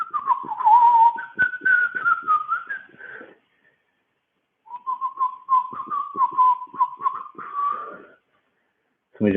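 Whistling of the Rocky theme tune during a Krav Maga class, two clear melodic phrases separated by a short pause, with trilled notes and breathy air behind the tone.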